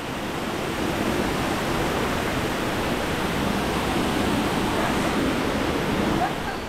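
Goa Raja waterfall in Bali roars as a steady, dense rush of falling water, loud and unbroken throughout with no pauses.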